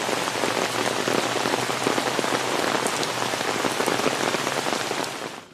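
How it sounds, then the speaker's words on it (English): Heavy rain from Tropical Storm Harvey pours steadily and densely, a continuous loud hiss of drops pattering on a surface, with no voices. "it's been coming down hard. Yeah, we got some rain here"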